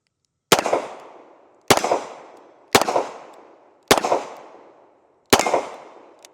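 Five sharp, loud gunshots from a Smith and Wesson 640PC revolver ring out at uneven intervals, each followed by a short decaying echo, with no talking.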